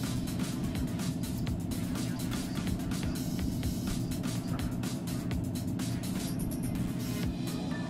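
Engine of a 1990s Mercedes DTM touring race car in a racing video game: a loud, steady, dense roar that holds without a break for the whole stretch.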